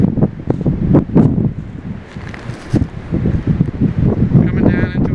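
Strong mountain wind buffets the microphone in gusty, roaring bursts during a snowy winter backpacking trek, with people talking intermittently underneath.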